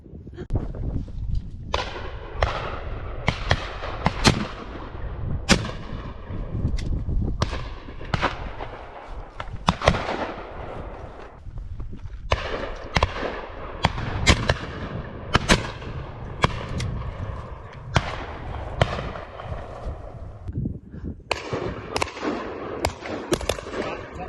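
Shotguns fire throughout a driven game bird shoot in a snowy, freezing valley setting. The sharp bangs are scattered irregularly at varying distances, some loud and close and others fainter, over a continuous windy background.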